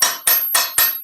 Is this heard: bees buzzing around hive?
no